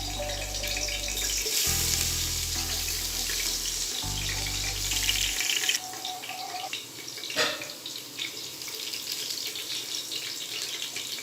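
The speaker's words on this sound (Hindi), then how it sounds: "एक 2 मिनट के लिए हम इसके अंदर लहसुन को फ्राई करेंगे।" Garlic fries in about a cup of oil in a pan, a steady frying hiss with watery, tap-like washes and a few brief low thumps, without talk.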